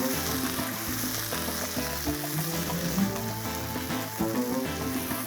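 Ginger garlic paste sizzles and fries with chicken in a hot pan, a continuous, close crackling hiss with small pops throughout and no voices.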